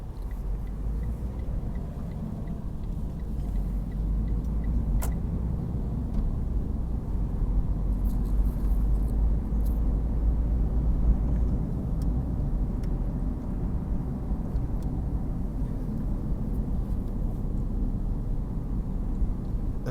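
A car driving slowly through a Dallas neighborhood and making a left turn, its steady low engine and road rumble heard from inside the cabin, continuous with no talk.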